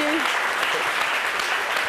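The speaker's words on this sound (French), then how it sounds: "Vraiment, on applaudit encore." A studio audience on a midday French talk show claps in a continuous, even burst, brief and fairly loud, with some voices mixed faintly into the clapping.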